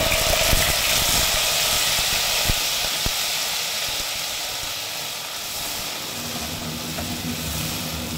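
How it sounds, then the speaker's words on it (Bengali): Nigella seeds, dried red chillies and ground spice paste hit hot oil in a home kitchen, giving a steady loud broadband sizzle and hiss that stays constant throughout, with faint clatters and no talking. "তেলটা গরম হয়ে গেছে। এখন আমি এর মধ্যে দিয়ে দেব কালো জিরে আর দিয়ে দেব শুকনো লঙ্কা আর দিয়ে দেব বেটে রাখা মশলা।"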